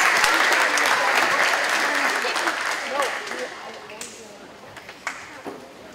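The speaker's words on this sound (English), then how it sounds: "So I really want everybody to give big applause to all the choir students." An audience at a piano recital applauds choir students, a burst of dense clapping that starts loud and gradually thins out, with a voice speaking over the tail end.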